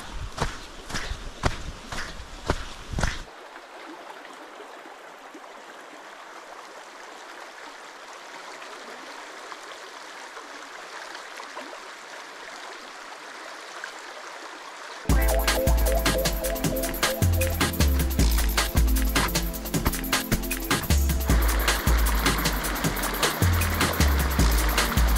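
Footsteps splash and wade through a shallow stream crossing on a waterfall hike near Pai, Thailand, with steady flowing water throughout and louder rhythmic trudging and sloshing in the latter part.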